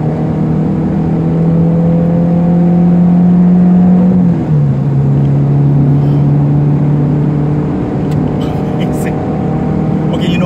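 A 2006 Proton Savvy 1.2 with a holed muffler drones loudly from inside the cabin while driving; the engine note holds steady, then drops sharply at a gear change and carries on.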